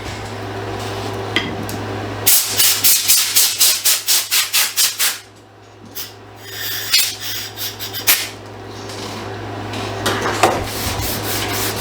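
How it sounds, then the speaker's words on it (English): Sandpaper working a wooden gun stock during refinishing, with a run of rhythmic back-and-forth strokes followed by slower, scattered rubs. The sound is close and loud, with no speech. "Just sanding."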